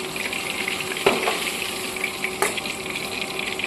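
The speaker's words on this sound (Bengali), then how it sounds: "বাকি মাছগুলোকে আমি ভেজে নিচ্ছি।" Katla fish pieces fry in hot oil in a pan, giving a steady close sizzle with a couple of brief sharper crackles and clinks partway through.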